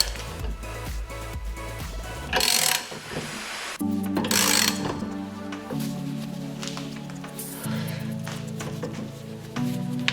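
A rear wheel bearing assembly from a Renault Clio is gently tightened in a vise, giving loud, close ratcheting clicks and grinding mechanical turns in uneven bursts, with no voices.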